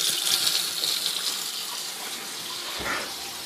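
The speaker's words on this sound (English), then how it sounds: "I can run water." Water runs steadily from a kitchen tap into a basin, a continuous close hissing gush with a small splash change near the end, no voices.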